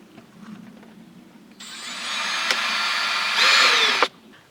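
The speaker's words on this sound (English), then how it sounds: "I'm just going to use the drill, and I'm going to drill a hole through each side of this" A power drill whirs steadily for a couple of seconds, rising in pitch near the end before cutting off abruptly; close and fairly loud.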